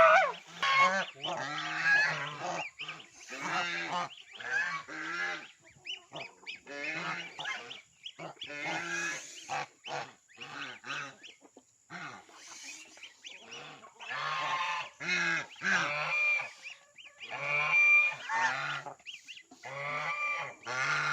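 Geese honking in a busy, overlapping chorus at close range on a farm during feeding time, with loud repeated calls and short gaps between them.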